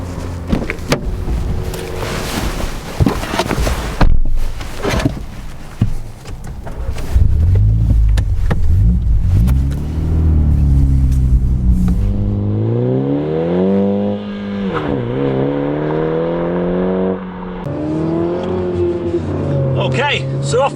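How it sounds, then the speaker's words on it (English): A 2020 Mini John Cooper Works hatchback engine hums and pulls away on a proving ground, rising and falling in pitch as it accelerates through the gears, with some speech over it early on. "let's jump in the car and go for a spin"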